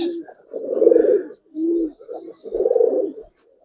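Giribaz and colored fancy pigeons coo in a few close, rounded bursts with short gaps between them, the calls rising and falling on their own with no talk over them.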